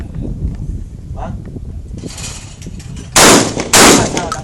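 Two loud, sharp shotgun blasts ring out close together after a stretch of outdoor rustling and muffled voices at a shooting course.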